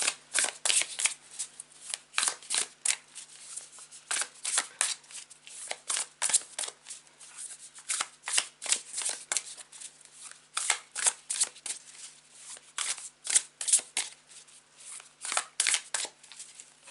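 Tarot cards shuffled by hand in a long run of crisp, repeated riffling bursts, close and clear with no talking over them.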